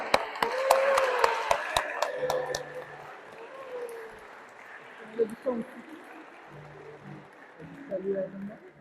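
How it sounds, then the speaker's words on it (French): Congregation at a baptism briefly clapping after the anointing, a quick run of sharp claps fading into murmuring and scattered voices in a reverberant church. "Applaudissons notre sœur Alexandra"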